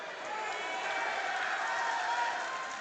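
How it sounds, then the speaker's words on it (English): A high-school basketball student section at a regional semifinal between Trinity and Manual lets out a broad, steady crowd cheer that swells and holds, with gym noise and the roar of many voices together. "Right in front of the Trinity student section as they let out a cheer"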